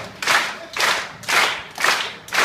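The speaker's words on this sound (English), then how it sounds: "Okay, get your hands clapped." Audience in the Bird Cage Theatre at Knott's Berry Farm claps in unison, five loud, evenly spaced group claps about half a second apart, with no talking over them.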